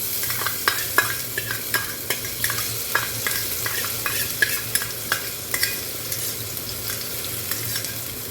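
Chopped garlic sizzles in a hot pan while a spatula stirs it in a steady series of close scraping strokes over continuous frying hiss, during preparation of a Bengali lote fish curry.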